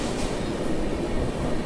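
The Falaknuma SF Express rumbles along on a run toward Visakhapatnam, a steady loud roar of wheels and carriage noise heard from inside a general coach.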